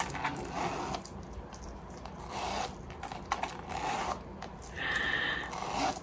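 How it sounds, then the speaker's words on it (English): A zipper pulled along a Louis Vuitton Mini Pochette handbag in short, smooth runs, close by, with light rubbing and handling noises between pulls. "the zipper pull is so smooth."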